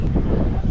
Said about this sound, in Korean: 바람 많이 불어서 좀 춥긴 한데